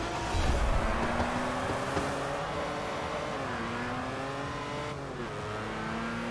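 Race cars rev and accelerate off the line at a race start in Forza Horizon, engines roaring loud and close with rising, shifting pitch as they climb through gears together.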